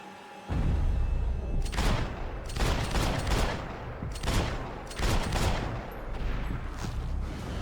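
Gunfire in the video game Max Payne 3 fills the scene: dense, continuous fusillades of rifle and machine-gun shots, loud and close, rising and falling in heavy bursts throughout without a pause.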